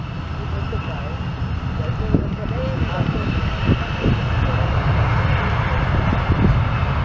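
An Airbus A330 airliner lands with its nose wheel held off the runway. A broad, steady engine and rolling roar is heard from a distance, with voices talking over it.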